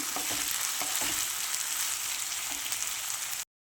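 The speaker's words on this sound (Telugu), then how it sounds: "ఇది పచ్చివాసన వెళ్ళేంత వరకు వేయించుకోవాలి" Ginger garlic paste fries in a pan with chopped carrots and beans for a coconut milk pulao, a steady loud sizzle with a few soft stirring scrapes, cutting off abruptly near the end.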